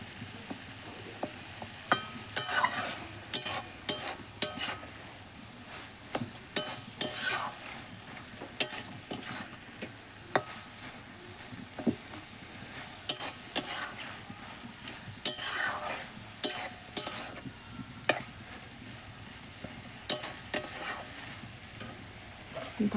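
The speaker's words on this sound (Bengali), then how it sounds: "আর এখন বাঁধাকপি রান্না হচ্ছে" Cabbage cooking in a pan during cabbage season, with repeated spatula scrapes and clanks against the pan over a soft background sizzle, irregular stirring strokes close by, no talking.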